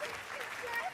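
A studio audience applauds on the French TV game show Pouch le bouton on TF1, a short burst of clapping with a voice talking over it.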